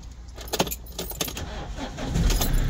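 Ignition keys on a 2016 Fiat Ducato van jangle and click in the lock, a few close metallic rattles, with a low cabin hum rising slightly near the end.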